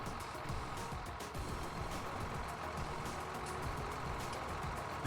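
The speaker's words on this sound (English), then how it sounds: "That tractor is horrendously loud." A tractor engine in Farming Simulator 19 drones loudly and steadily, a continuous mechanical rumble with no break or change across the whole stretch and no talking.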